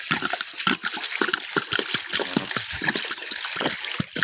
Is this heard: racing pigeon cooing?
no